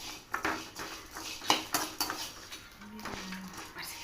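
A utensil stirs dry spices, including long pepper, as they roast in a pan, giving repeated close metallic scrapes and clinks in an uneven rhythm.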